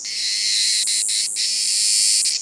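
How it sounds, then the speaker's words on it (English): A loud, continuous high-pitched insect drone, like cicadas buzzing steadily, with a few brief clicks breaking through. "It's a cicada. It says here that cicadas are the loudest of all insects."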